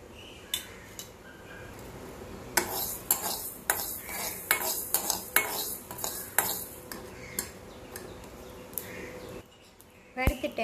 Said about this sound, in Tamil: இப்போ அதில் கடுகு வெந்தயம் போட்டு வறுத்துக்கலாம்.